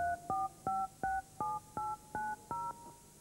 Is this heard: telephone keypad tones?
yes